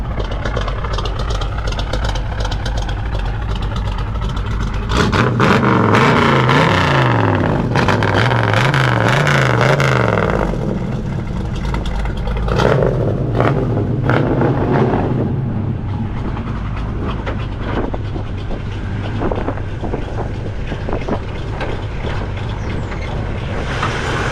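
A 1979 Chevy El Camino V8 rumbles loudly at close range, its exhaust rising and falling through revs over a steady deep drone, with no voices.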